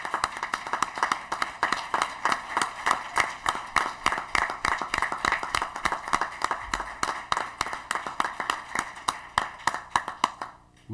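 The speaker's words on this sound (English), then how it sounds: "so we can give you a round of applause for your work on behalf of our children" An audience at an education forum gives school board members a round of applause. Scattered, uneven clapping of a modest crowd runs for about ten seconds before fading out.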